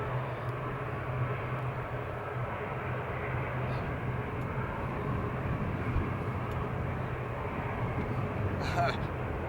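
Jet airliner at Amsterdam airport taking off, likely from runway 24, heard as a steady, loud broadband engine roar that holds throughout without a clear peak. Voices talk over it at points.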